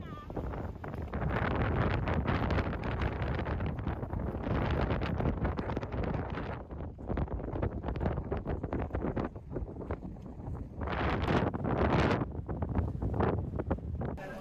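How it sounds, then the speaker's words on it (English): Strong wind buffets the microphone in a loud, continuous roar that dips briefly and surges again at a hilltop in Hakone, Japan, with a voice faintly underneath. "it was very windy due to the weather"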